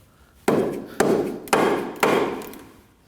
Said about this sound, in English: Using a rubber mallet, I'm just gonna hit it a couple times to make sure it's bottomed out.